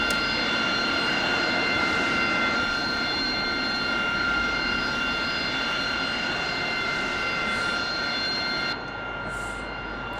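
F-14 Tomcat jet engines running in the flight simulator DCS give a loud, continuous roar with a steady high whine, dropping slightly in level near the end.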